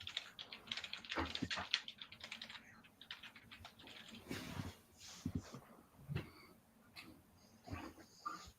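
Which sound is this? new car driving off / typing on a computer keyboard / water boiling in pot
typing on a computer keyboard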